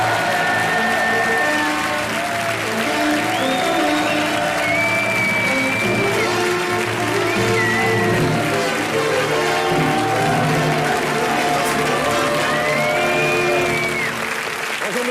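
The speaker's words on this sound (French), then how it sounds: "Je profite de vos applaudissements" A studio audience at a French television show applauds loudly and steadily throughout, a dense continuous wash of clapping with faint whistles rising over it.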